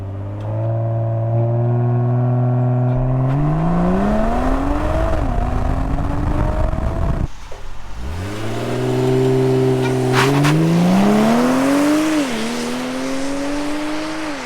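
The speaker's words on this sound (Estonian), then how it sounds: "See esimese käigu pealt teise peale minek, see selga löök, mis sa saad nagu sellest käiguvahetusest" A BMW 840i Gran Coupe in Sport Plus pulls hard under acceleration. Its engine note climbs loudly through the revs, drops sharply at each quick gear shift, then climbs again in sustained, close pulls.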